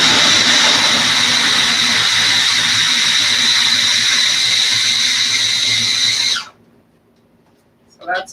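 A small, cheap electric food chopper blitzes cauliflower in a loud, steady whir for over six seconds, then cuts off abruptly, leaving near silence before a brief closing rattle.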